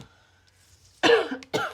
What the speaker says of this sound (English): Excuse me, I don't know why I keep coughing.